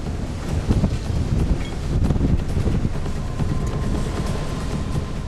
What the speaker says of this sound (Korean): 파도는 배 안까지 물을 뿌려댑니다